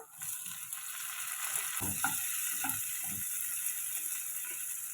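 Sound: chopped tomato added to sautéing onions, sizzling

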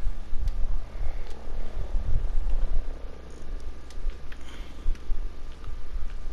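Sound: helicopter in Ghost Recon Breakpoint video game

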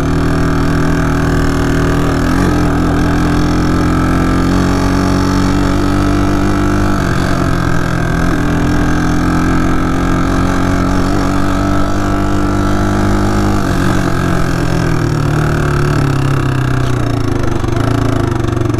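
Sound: four-wheeler ATV engine running

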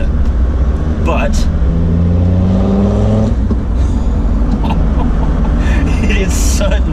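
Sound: remapped diesel Land Rover engine revving

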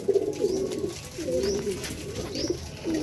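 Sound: pigeons cooing at morning feeding

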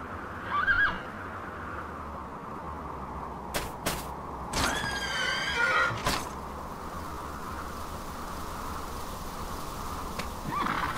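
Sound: horse neighing in video game Dragon Quest 8

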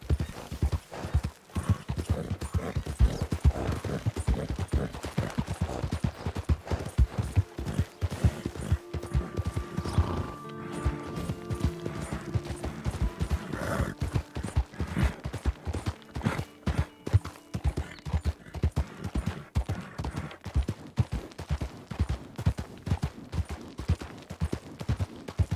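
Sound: horse hooves clip-clopping

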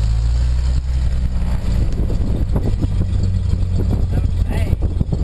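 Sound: seaplane engine starting

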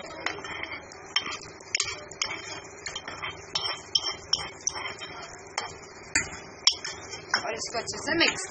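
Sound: stirring raita with a spoon in bowl

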